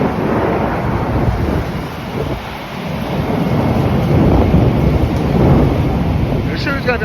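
Severe thunderstorm over Midtown with heavy rain, thunder rumbling steadily under strong gusting wind buffeting the microphone, a continuous loud roar throughout.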